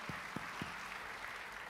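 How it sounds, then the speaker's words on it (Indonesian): Scattered clapping from a small church congregation, a few sharp claps standing out at first, then a steady soft patter. "Tepuk tangan yuk buat Tuhan kita Yesus."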